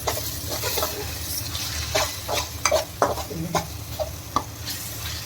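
A single large tomato frying and being stirred in a pan for chicken sukka, with soft sizzling under repeated close scraping and stirring strokes.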